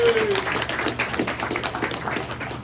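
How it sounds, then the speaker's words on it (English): A crowd at a sports press luncheon applauds a school athletic director, dense clapping at close range that holds steady throughout. "Let's give him a round of applause as well"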